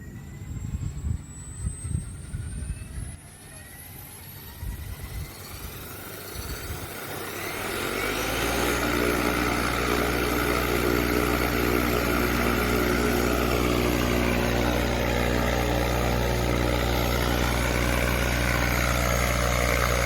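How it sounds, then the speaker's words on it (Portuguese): An RC helicopter motor on a Vbar Neo governor with a HobbyWing V4.1 Platinum ESC spools up under soft start, first quiet rustling and whine, then rising into a steady, loud rotor drone with a rising pitched whine. "eu só vou liberar aqui a chave do motor e mostrar todo o processo"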